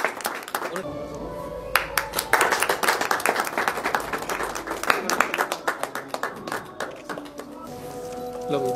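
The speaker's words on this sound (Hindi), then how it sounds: "जोरदार ताली हो जाए साथियों के लिए।" A crowd applauds at an exhibition in Aligarh, with dense, sustained clapping that thins into scattered claps toward the end, while someone speaks loudly over it.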